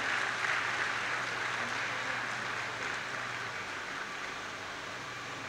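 An audience at a university ceremony applauds students in a sustained, even wash of clapping that stays fairly loud throughout and eases slightly toward the end.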